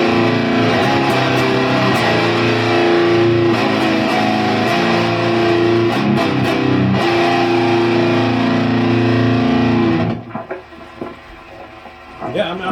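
An electric guitar played through a Demon TS9/TS808 overdrive pedal with its drive set a quarter turn up rings out in sustained, loud, overdriven chords for about ten seconds before cutting off into quieter handling noise.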